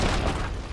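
A grenade explodes in the real-time strategy game Iron Harvest, a dense, loud blast whose roar fades slightly over less than a second.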